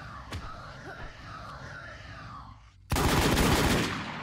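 Gunfire in the video game WarZ erupts as a sudden loud burst of sustained shots after a quieter stretch of game ambience.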